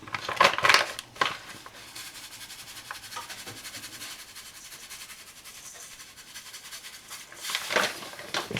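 Pink Himalayan salt being ground, giving a few short gritty crunching bursts near the start and end with quieter faint rustling between them.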